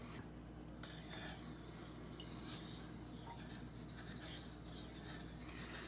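A Benchmade Bugout knife with a 20CV steel blade being sharpened on Norton water stones, giving a steady, continuous wet rubbing and rasping that runs close and unbroken without any talk.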